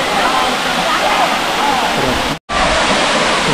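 Water at Gandhari waterfall near Medaram roars in a dense, unbroken hiss, loud and close, with one sudden momentary dropout before the rush resumes.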